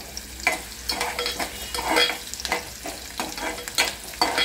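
Onion frying in a pan with paste and red masala, stirred in quick uneven scraping strokes over a soft sizzle, moderately close and fairly quiet.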